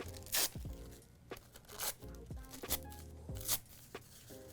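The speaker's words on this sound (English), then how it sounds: "Tear non-bleeding tissue paper into small pieces." Non-bleeding tissue paper being torn in several quick, close rips, with soft crinkling and rustling between the sharp tearing bursts.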